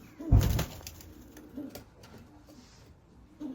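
Jumbo pigeons in a coop give soft, low coos, with one louder burst near the start and fainter calls afterwards.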